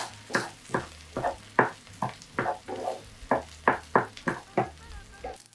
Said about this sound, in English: Give it a good stir until everything is nice and shiny